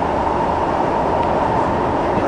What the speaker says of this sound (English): this is a pretty long ride for a metro between stations